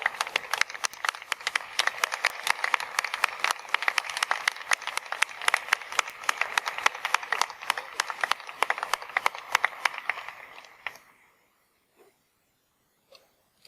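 Sustained applause from a commencement ceremony crowd honoring graduates' supporters, dense rapid clapping that holds steady for about ten seconds, then stops abruptly, leaving near silence with a couple of faint stray sounds.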